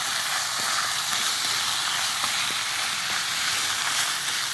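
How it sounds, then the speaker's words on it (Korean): Squid and pork bulgogi stir-frying in a hot pan, a steady loud sizzle and hiss running throughout with faint occasional stirring scrapes, close up and without talk. "이제 칼집이 벌어질 때까지 볶아주세요."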